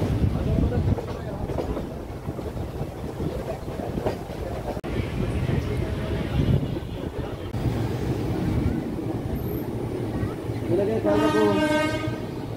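A Kolkata-to-Digha special passenger train, number 03161, rumbles and clatters over a crossing onto the Howrah line with a steady rolling noise, then a horn blares loudly near the end.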